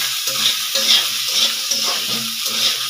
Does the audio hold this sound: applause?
no